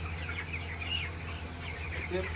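Chickens on a poultry farm raising chicks and eggs for export give soft, repeated clucks over a low steady hum of farm equipment, faint and fairly close.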